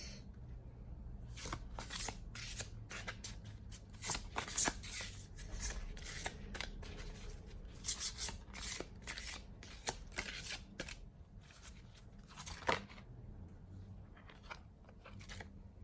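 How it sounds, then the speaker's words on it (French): Tarot cards are shuffled and drawn by hand in a quiet room, giving soft riffling and brisk papery flicks and snaps in irregular bursts, close and fairly faint. No one talks. "je vais vous tirer une dernière carte pour aujourd'hui"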